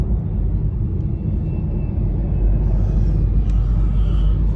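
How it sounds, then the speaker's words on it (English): An Austrian Airlines airplane takes off from a nearly idle airport, a steady low engine rumble roaring at moderate distance without pause, with faint higher whine riding on top. "look at that, an airplane taking off"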